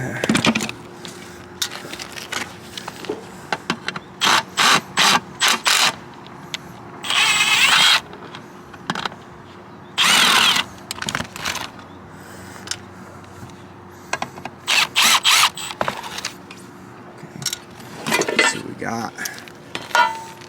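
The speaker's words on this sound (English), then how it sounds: "See if I can get in there to get that screw out." Ratchet tool working a screw loose during a residential solar installation, heard as bursts of quick metallic clicking in short rhythmic runs, fairly close, with brief pauses and faint handling noise between.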